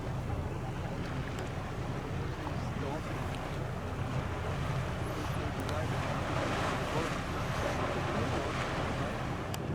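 Steady wind and water rush fill a boat ride near Ketchikan, Alaska, a constant broadband roar of engine, waves and microphone wind with no clear speech.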